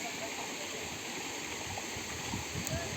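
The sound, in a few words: stream water flowing at Gitaghat, Rohtas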